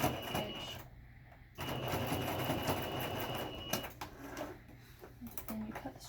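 A sewing machine back stitching, its motor whirring in a steady mechanical run of several seconds, broken by a brief pause, with faint room noise and a few light clicks afterward.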